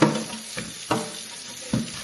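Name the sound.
scrubbing a bathroom sink with hot water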